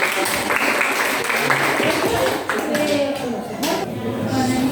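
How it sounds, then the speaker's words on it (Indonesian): A classroom group applauds, a steady wash of many hands clapping that fills the whole stretch, with voices faintly mixed in underneath. "Kasih aplaus dulu untuk pertanyaan."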